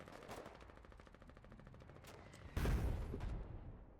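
Distant rapid gunfire rattles steadily in the Foxhole war game, then a heavier artillery blast lands with a louder boom and lingers for a moment.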